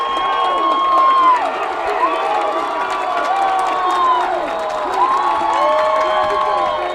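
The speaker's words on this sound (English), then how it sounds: "The West Deptford crowd getting into it." Home football crowd at West Deptford during a South Jersey final cheering loudly in a stadium, with sustained roaring, whoops and shouts rising and falling over several seconds.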